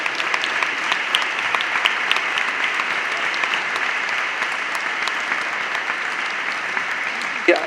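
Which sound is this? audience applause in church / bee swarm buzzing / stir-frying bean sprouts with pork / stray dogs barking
audience applause in church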